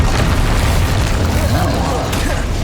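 Incendio fire spell cast in Hogwarts Legacy, a loud, dense whooshing roar of flame that sustains for a couple of seconds amid game effects and music, with a voice speaking over it.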